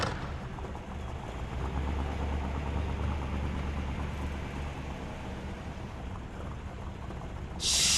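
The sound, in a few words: Green Sabre car engine idling, from video game GTA San Andreas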